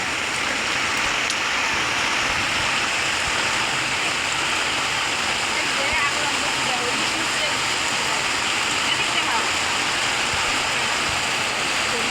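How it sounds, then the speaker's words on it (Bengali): Steady monsoon rain falls outdoors in Barishal while hilsa fish is cooked, an unbroken, fairly loud hiss of drops on surfaces that holds at a constant level throughout. "বৃষ্টিও নামছে"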